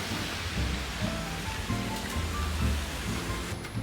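Steady rain pours down on a rainy day outside a shop, a dense continuous hiss with low rumbling underneath and no talk over it.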